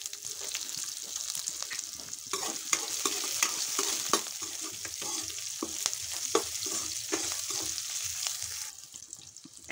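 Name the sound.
onion frying in pan for poha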